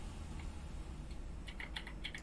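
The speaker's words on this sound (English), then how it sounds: "Where is that typing?" Quiet, rapid clicking of keys on a computer keyboard over a steady low background hum, with the keystrokes clustering toward the end.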